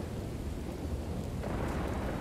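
Thunderstorm in a video game: a steady, loud wash of rumbling thunder and rain fills the whole moment, with a brighter crack of thunder rising partway through and no talk over it.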